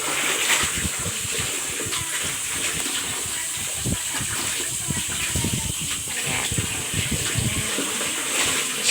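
Laundry washed by hand in a basin, with continuous sloshing, dunking and splashing water, close up and busy throughout, and faint voices underneath.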